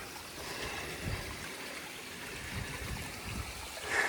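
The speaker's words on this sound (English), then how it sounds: "that lovely little waterfall up through the back there as well" Small waterfall and flowing stream water in a North Queensland garden, a steady broadband rush and trickle running continuously and fairly close, with no talk over it.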